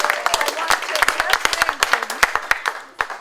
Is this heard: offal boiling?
no